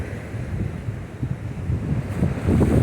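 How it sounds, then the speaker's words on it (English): Ocean waves surge and splash against rocks on the Maine coast near an island lighthouse, under strong gusting wind that buffets the microphone, swelling louder toward the end. "It's pretty cool to see all the water splashing up when the waves come in."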